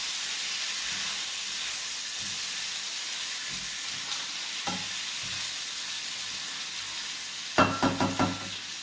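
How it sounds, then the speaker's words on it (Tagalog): Beef liver sizzles steadily in a hot pan, a broad continuous hiss, with a few scraping stirs and clatters near the end. "Prito po natin ng konti yung ating liver."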